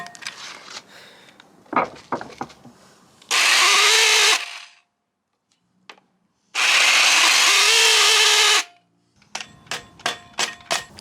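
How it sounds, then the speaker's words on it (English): A jigsaw with a worn-out motor cuts wooden cross members for a barrel sauna in two loud, close bursts of roughly one and two seconds, separated by quiet handling and knocking noises. "We're gonna use a jigsaw to cut these cross members because it's just gonna be a lot easier like that."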